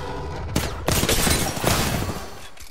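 Rapid video game gunfire in a shooter match, a burst of loud close shots with sharp cracks and a clattering, dense rhythm over about three seconds.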